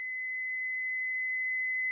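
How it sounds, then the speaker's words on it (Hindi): An auto-ranging digital multimeter in buzzer (continuity) mode gives a steady, continuous high-pitched electronic tone while its probes test a low-value resistor of about 5 to 6 ohms, alone with no talk. "ये बजर मोड पे चला गया है"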